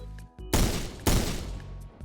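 Rapid bursts of C7 rifle fire from the Roblox shooter Phantom Forces, two loud close volleys about half a second apart over a steady low game hum, with no talking.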